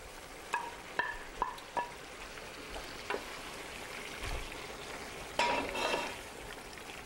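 Peppers go into a tomato sauce with fresh basil cooking over a high flame, giving a steady low sizzle with a few stirring clinks and a louder burst of frying near the end.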